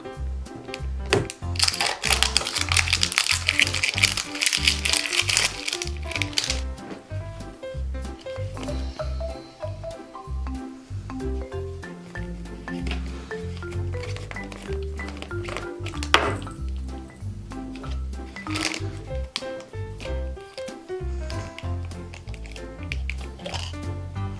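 Someone opens a Smooshy Mooshy surprise toy package, with busy crinkling, tearing and handling of plastic wrapping in close irregular bursts. Background music plays underneath the whole time.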